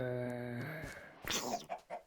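Chicken in the Minecraft video game, a few quick clucks near the end following a held tonal game sound, fairly faint.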